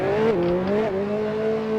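Scooter engine in the video game Brokeville, a steady loud droning hum that dips and shifts pitch a couple of times as if changing revs, continuous and alone without talk.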